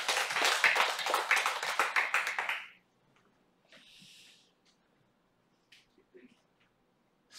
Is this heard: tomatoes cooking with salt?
no